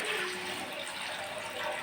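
Water gushes into a pot of rice being washed for a vegetable pulao, a short, steady pouring rush heard close up.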